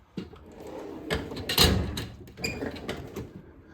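A drawer on a US General tool box rolls open with a short metallic slide and clunk, followed by a few lighter rattles and knocks of tools shifting inside, close by and with no talk.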